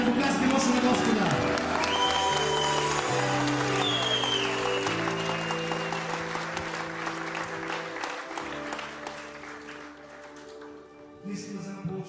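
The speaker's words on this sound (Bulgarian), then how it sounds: "ръкопляскайте мощно на Господа." A revival meeting congregation in Sofia, Bulgaria, claps powerfully to the Lord under loud sustained organ-like music chords, with voices mixed in; the clapping is dense at first, then eases as the music drops near the end.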